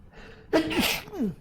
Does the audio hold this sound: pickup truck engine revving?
no